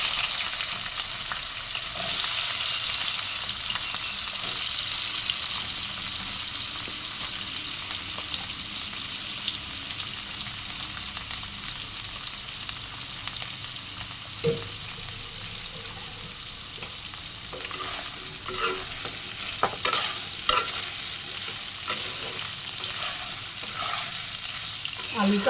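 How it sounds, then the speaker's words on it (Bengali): Potatoes sizzle steadily in a hot pan, frying lightly while a utensil stirs and scrapes them, with occasional sharper clicks and pops over a continuous hiss. "আলুটা হালকা একটু ভাজা ভাজা করে নেব"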